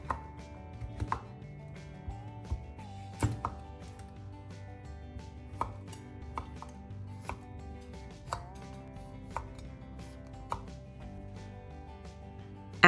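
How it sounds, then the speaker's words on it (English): A knife cuts a pumpkin into sections on a cutting board, giving sharp, separate chops at an irregular pace, roughly one every second or so, close and distinct against a quiet background with faint kitchen clatter. "Then cut the pumpkin into sections and carefully remove the skin."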